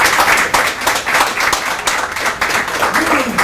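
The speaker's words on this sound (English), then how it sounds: "Let's have a round of applause for everyone so far." A crowd at a poetry night applauds, dense rapid clapping from many hands at close range that runs steadily throughout with small surges in intensity.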